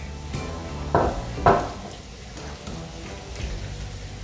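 A spoon stirs steak stew in a cooking pot, giving a few sharp metallic clanks and scrapes against the pot, close and clear over a quiet background.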